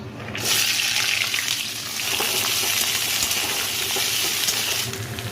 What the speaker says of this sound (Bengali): এবার এখানে আদা পেঁয়াজ রসুন একটু কাজু বাদাম দিয়েছি এটাকেও একটু ভেজে নেবো